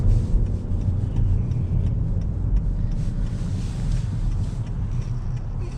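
A Honda Accord 2.0T Sport in sport mode, heard from inside as it drives: a steady, loud engine and road rumble with wind noise runs throughout, with no speech.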